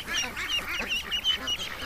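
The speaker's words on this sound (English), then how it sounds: "Ah, little ducks." Ducklings and older farm ducks by a lake give off a brief stretch of high, rapid peeping and soft quacks, fairly close and steady, with no voices.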